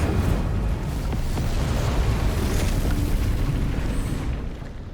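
Confringo blasting spell explosion in Hogwarts Legacy on Switch, a loud, deep, rumbling boom that sustains for several seconds before tapering off at the end.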